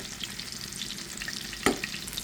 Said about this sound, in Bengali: এটা আরেকটু ভেজে নেব